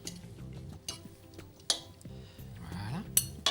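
A spoon or fork clinks and scrapes against a bowl while salad is tossed with vinaigrette for a warm lamb sweetbread and potato salad, with soft irregular clatter and a few sharper chinks, close by and without speech.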